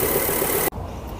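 A Volvo V70 T5 estate engine idles steadily while warming up, a dense continuous hum that cuts off abruptly partway through, leaving a much quieter low rumble.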